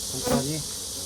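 Honeybees hum in a steady, dense drone around an open beehive, close and fairly loud throughout, with a brief louder buzz of a single bee passing near the middle.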